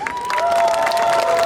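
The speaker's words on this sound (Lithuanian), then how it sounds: "Ir dabar garsiausiai paplokite visi" An entire outdoor crowd at a Joninės midsummer festival in Elektrėnai claps loudly together, a thick, continuous burst of applause with cheering lasting about a second and a half, a sustained voice carrying over it.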